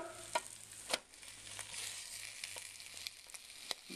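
A Monte Cristo sandwich sizzles steadily in a Copper Chef pan while being pressed down, a close continuous fry with a few sharp taps and scrapes, no talk.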